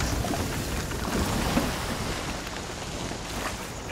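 Steady rain and stormy weather in the video game Sea of Thieves, a constant dense hiss with a low rumble underneath, even and continuous with no talking.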